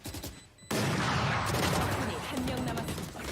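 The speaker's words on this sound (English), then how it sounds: "Throws down his dark cover and then immediately headshots the Rays coming around the corner" Rapid gunfire from the Valorant video game during a VCT Korea esports match, a dense sustained burst of shots that starts abruptly and continues loudly to the end, with a brief quieter lull before it.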